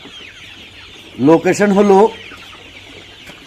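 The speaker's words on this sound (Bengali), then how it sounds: "এটা হলো সোনালী মোরগ" A Sonali rooster at a poultry farm gives a short, loud burst of clucking lasting under a second, close by, with a voice talking around it.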